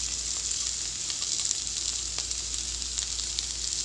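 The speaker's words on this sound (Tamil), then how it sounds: "சீரகம் பொரிஞ்ச உடனே பொடியாக நறுக்கியிருக்கிற வெங்காயத்தை ஆட் பண்ணிக்கலாம்." Finely chopped onion added to hot oil with crackled cumin seeds for a paneer gravy sizzles and fries steadily, a constant close hiss with a few small pops and occasional stirring.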